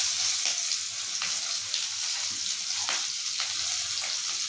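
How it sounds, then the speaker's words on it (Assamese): Chopped onion and green chilli frying in hot oil with five-spice seeds and a bay leaf, the base for a fish and taro curry: a steady, close, crackling sizzle, with faint stirring taps and no voices. "এইখিনি কিছু সময় ভাজি ল'ম।"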